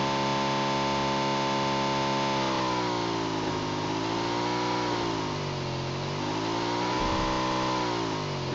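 A motorbike engine in the mobile game PUBG Mobile drones loudly and steadily, its pitch swelling and dipping as the bike revs and changes speed, with no talking.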